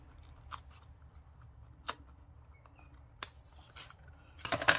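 Scissors snip paper by hand while trimming a Christmas folio craft piece, a few sharp isolated cuts spaced apart over quiet room tone, with a denser rustling burst at the end.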